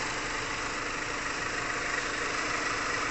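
A 2002 Mitsubishi Galant engine idles with both radiator fans running after a radiator flush, a steady, even hum and whir at close range with no talking.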